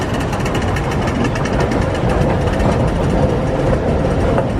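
Hong Kong metro train riding toward Tung Chung, heard from inside the carriage as a steady loud rumble and hum of motors and wheels on track, with no voices.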